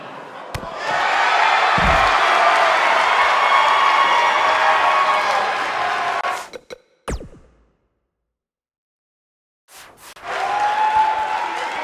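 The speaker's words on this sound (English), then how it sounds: "We have a sold-out, record-setting crowd here for BCW tonight." A sold-out arena crowd in the WWE 2K19 wrestling game roars and cheers in a loud, dense wash with a few sharp slams. It cuts out to near silence for a few seconds, then surges back.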